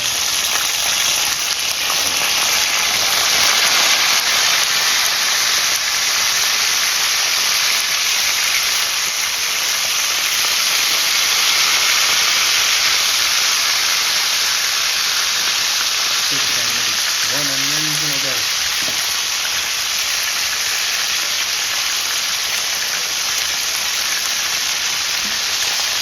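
Fish frying in a pan for a coconut steam fish dish, a steady broadband sizzle and crackle running throughout, loud and close, with a brief murmur of voices near the end.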